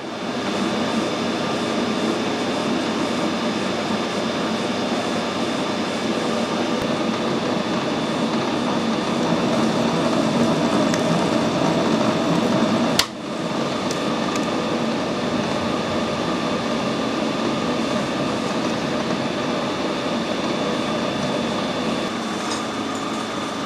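A lathe cutting a thread on a chrome bar runs as a steady, loud machining drone throughout, broken by a single sharp click midway.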